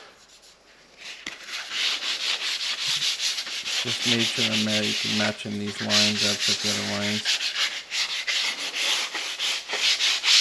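Wooden pantry shelves hand sanded with a foam sandpaper scrubby, a loud close scratchy rubbing in quick back-and-forth strokes, while a person talks over part of it.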